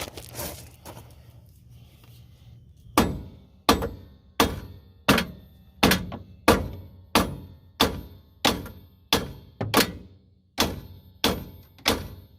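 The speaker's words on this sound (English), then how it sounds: "use an old castle nut screwed down most of the way, and then just beat on the castle nut" Hammer blows on an old castle nut threaded onto the rear spindle of a 2007 Scion tC, about a dozen sharp metallic strikes at a steady rhythm, close and loud, after a few seconds of quieter handling.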